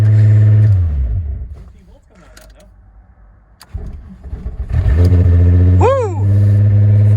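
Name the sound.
Volkswagen Passat VR6 engine revving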